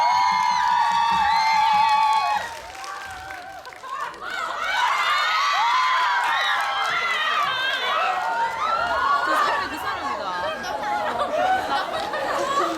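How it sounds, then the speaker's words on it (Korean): A lively crowd at a Busan cinema stage greeting for the film The Final Weapon: Arrow cheers, whoops and shouts as the lead actors are welcomed, excited voices rising and swelling together over busy chatter for more than ten seconds. "여러분, 저 뜨거운 박수와 함께 저희 주연 배우분들 모시겠습니다."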